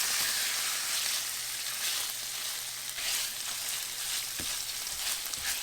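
Steady sizzling and crackling of tofu frying in a hot pan, with a faint scrape partway through and no talking.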